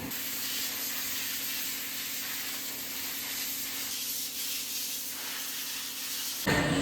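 A Bajaj Avenger 160 motorcycle is washed at a service centre with a water spray, producing a steady, loud hiss that holds for several seconds before a sharp change near the end, with no voices.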